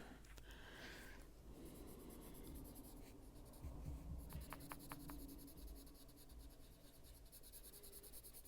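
A pencil scratches and rubs across paper in quick close strokes, soft and steady, with a few short sharper taps midway.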